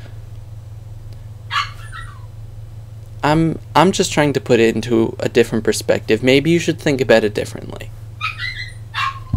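A dog barks and yips in short sharp bursts, some alone and others overlapping someone talking at length, with whimpering yelps near the end and a constant low electrical hum underneath.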